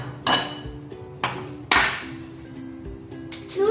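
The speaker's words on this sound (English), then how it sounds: "So add 4 tablespoons of butter" Butter spooned into a bowl with a tablespoon while making cream cheese frosting for a no-bake red velvet cake: several sharp metallic clinks and taps of spoon against bowl, close and fairly loud, spaced irregularly.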